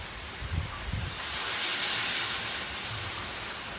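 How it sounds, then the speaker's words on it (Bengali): Water poured into a sizzling tilapia fish curry gives a steady hiss that swells and then settles, with a few faint clinks early on. "কষানো হয়ে গেছে এবারে জল দিয়ে দেবো"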